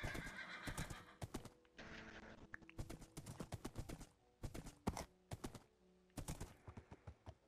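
Minecraft horse sounds on PlayStation 4: bursts of rapid clip-clop hoofbeats interspersed with sharp neighs and whinnies, loud and close with short pauses between bursts, plus faint game clicks.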